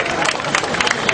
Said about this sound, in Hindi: स्वामी संतुष्टानंद जी महाराज के लिए भी तालियां बजाकर